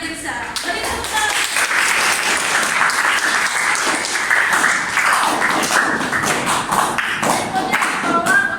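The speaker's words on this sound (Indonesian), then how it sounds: "Beri tepuk tangan." Loud, sustained clapping from a group, close and dense, with scattered voices and cheers mixed in.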